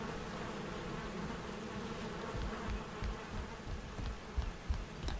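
Bees buzz steadily around hives in the Viking survival game Valheim, a continuous low insect drone at moderate level with faint soft thumps and no voices.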